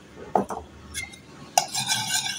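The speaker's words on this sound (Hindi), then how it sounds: "हल्का सा मिक्स करूंगी" A spoon stirs milk and yeast in a bowl, giving a few soft scraping clinks near the start and middle and then a brighter, busier stretch of stirring toward the end, close and fairly quiet.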